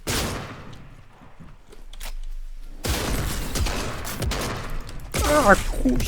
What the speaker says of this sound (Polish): ktoś tu do mnie strzela